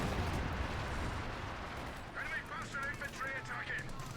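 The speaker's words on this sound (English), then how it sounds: "Panther pursuing the section with machine gun and main gun." Machine gun and tank main gun fire from a Panther in a Company of Heroes style strategy game, a steady dense rumble of gunfire with bursts under continuous talking.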